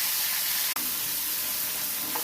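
Onion frying in hot oil, a close and loud continuous sizzle that dips for an instant, then carries on steadily, with no talking.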